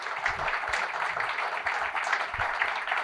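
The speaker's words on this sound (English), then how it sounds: "Keep the applause as loud as possible as we present the memento" An audience at a Chennai conference panel on vertical growth and towers claps steadily and fairly loudly through a memento presentation, a dense, continuous patter with no pause.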